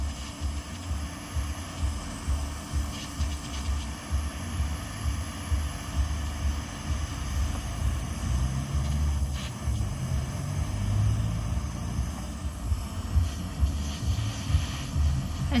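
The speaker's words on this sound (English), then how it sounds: "As you can see, I'm using a very small torch." A small cook's torch flame heats a metal ring band, giving a steady, close, breathy roar that holds level for the whole stretch with no pauses.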